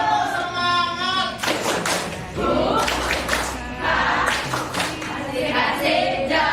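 A group does a rhythmic Indonesian spirit clap (tepuk semangat) during a school activity. Loud, close bursts of many hands clap in patterned rounds, with short pauses between the phrases.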